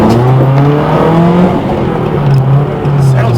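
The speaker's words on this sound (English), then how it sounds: "for just the stock engine and aftermarket exhaust, sounds pretty well" A widebody BMW E36 with a stock engine and aftermarket exhaust revs loud and close, its droning note rising and falling through repeated pulls, with faint voices underneath.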